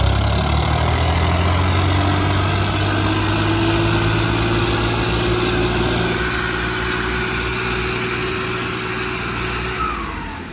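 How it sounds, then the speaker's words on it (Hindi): A tractor engine runs loud and close with a steady low throbbing idle that rises in pitch as it pulls away, then fades slightly toward the end. "और ये चला भाई ट्रैक्टर प्रधान"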